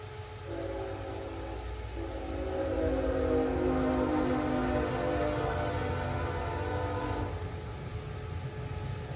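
A train rolls past on CSX railroad tracks beside a workshop, a loud sustained rumble with a long tonal horn-like drone swelling and fading over several seconds, with no voices.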